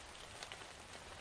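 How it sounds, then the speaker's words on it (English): Steady rain falls in the video game Silica, a continuous broadband hiss of drops on surfaces with a couple of slightly louder patters, moderately quiet and with no voices. "Listen to the rain."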